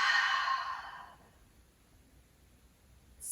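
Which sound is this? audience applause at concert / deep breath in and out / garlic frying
deep breath in and out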